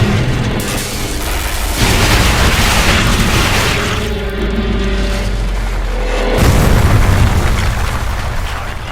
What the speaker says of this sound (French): La tour est détruite et le jus est coupé.